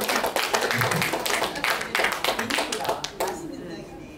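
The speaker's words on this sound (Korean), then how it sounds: "박수 부탁드리겠습니다" A small audience at a folk-song fan meeting in a community hall claps right after a rice cake is cut. The claps come as distinct, uneven bursts, then thin out and fade near the end.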